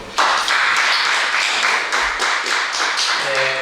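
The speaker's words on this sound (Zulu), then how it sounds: "niziphe nje ihlombe lokho" Audience at a live concert at the Bat Centre claps in sustained, dense applause, loud and close, with steady hand claps throughout and no talking.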